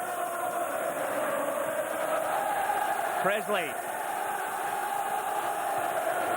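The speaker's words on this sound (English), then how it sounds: "The noise is incredible, cheering their heroes" A large football crowd roars and cheers at Celtic Park as Celtic celebrate with the trophy, a dense, sustained wash of noise with a commentator speaking over it.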